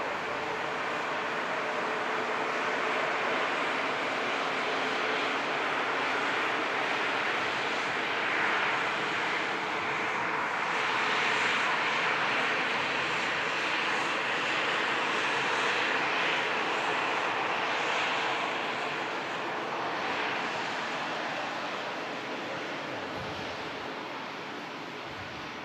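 An airliner passes at Manchester Airport, a broad, steady roar of jet engine noise sustained throughout, loud and continuous with a slight fade at the end, with no voices.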